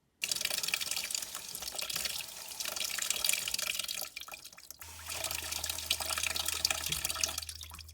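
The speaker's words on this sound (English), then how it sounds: "I'm going to try to run some water through now and see if that'll knock some of that stuff down" Tap water runs steadily into a clogged sink drain, a loud continuous splashing stream that dips briefly near the middle and then resumes, heard alone.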